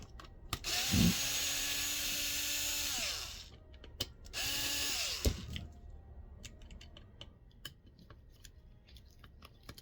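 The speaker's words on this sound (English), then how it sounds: "there's two more screws on the back, so unscrew it" Power screwdriver unscrewing the rear screws of an HP 950 printhead, two loud whirring bursts of a few seconds each with clicks and knocks between them, close up and with no talk.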